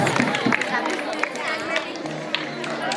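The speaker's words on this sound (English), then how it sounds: "So let's welcome him with a big round of applause" An audience at a school sports and prize distribution event applauds to welcome the vice principal, a steady wash of clapping from many hands with crowd chatter mixed in, close and fairly loud throughout.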